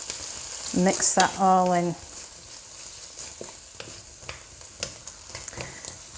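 Garlic and chilli fry in a pan with a soft, steady sizzle and light stirring clinks. A voice speaks briefly over the opening second.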